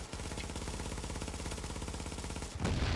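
Rapid automatic gunfire from the video game The Division, a continuous, loud, evenly spaced burst of shots that stops abruptly near the end, followed by a brief heavier impact.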